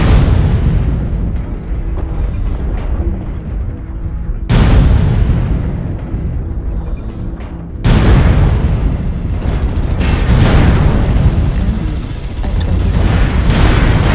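Missile explosions in MechWarrior Online roll through as heavy, rumbling booms, with three loud blasts that each hit suddenly and then sustain a dense roar, close and forceful, with no talking.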